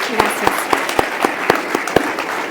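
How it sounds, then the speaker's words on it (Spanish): Audience applause for the guests of a business talk on AI and digital transformation. Steady moderate clapping from a small crowd, with distinct individual claps repeating at a quick, even rhythm. "Un aplauso para ellos"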